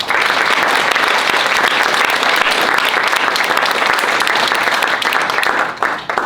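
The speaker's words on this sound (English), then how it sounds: "one more round of applause for our 5 inductees." Sustained applause from a crowd at a university hall of fame induction, loud and steady throughout, with clapping tapering slightly at the very end.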